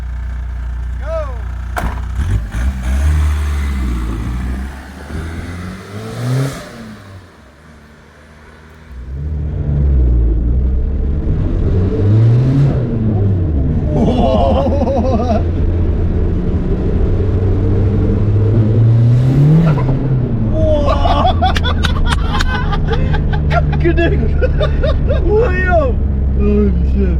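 A 400+ hp MK2 TDI car pulls away hard on its first test drive, a loud diesel engine rising and falling through several pulls with gear changes, close up from inside, while people talk and cheer over it.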